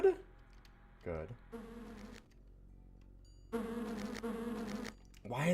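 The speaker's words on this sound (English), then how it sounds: "Why is that buzzing so loud?" Loud insect buzzing in the Lands of Lore DOS video game, droning in bursts with gaps and sitting close and prominent over game sounds.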